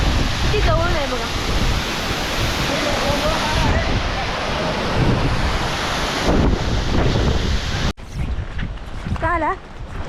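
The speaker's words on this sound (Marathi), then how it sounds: "मी आता जवळ आलो वॉटरफॉलच्या" Waterfall in Maharashtra heard up close as a loud, continuous roar of rushing water with wind buffeting the microphone, and a person talking over it at moments.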